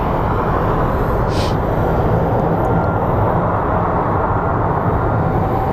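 An American Airlines Boeing 737 jet roars steadily at close range, a broad continuous engine wash that stays loud and even throughout with no voices over it.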